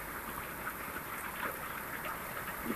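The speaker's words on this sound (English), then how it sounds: "It's raining so hard." Steady, heavy rain hissing evenly with dense patter, no pauses, filling the whole moment with a constant wash of sound.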